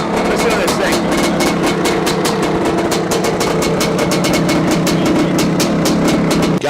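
A freshly restored big-bore Maico GM-Star 500 motorcycle with a brand-new motor runs after kick-starting, its single-cylinder exhaust popping in a fast, even stream of loud pulses throughout.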